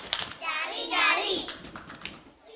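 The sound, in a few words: children clapping hands in a clapping game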